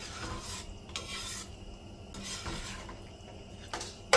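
Goat meat is stirred and browned in a pan, with a spoon scraping the bottom in several close, rasping strokes between quieter gaps and a soft sizzle underneath.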